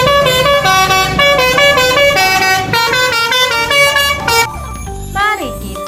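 A toy Bus Telolet horn plays a loud, bright melodic tune of repeated honking notes, ending in a short falling electronic sweep; a voice speaks briefly beneath it.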